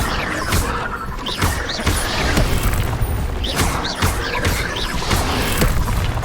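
Repeated fire spell blasts in the Hogwarts Legacy video game, a series of loud booming whooshes and crashing impacts roughly every half second to second over a dense, continuous layer of game noise.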